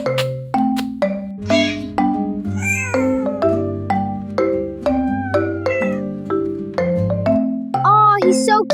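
A cat near a baby gives a long run of clear, repeated meows, some drawn-out and wavering, close and fairly loud, with no talk over it.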